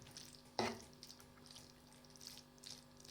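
A spoon mixing pasta through creamy white sauce in a pan, quiet wet squelching and sloshing with one brief louder scrape near the start, low and close.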